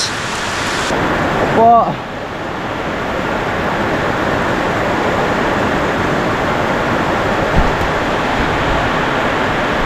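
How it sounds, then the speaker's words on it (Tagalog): Sudden heavy rain pouring down on a garden, a dense, loud, steady hiss of downpour throughout, with a voice speaking briefly near the start. "Bigla na lang bumuhos yung ulan"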